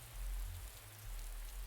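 Steady rain hisses in a battle in the video game X-Wing Squadrons, a constant quiet wash over a heavy low rumble with no talking.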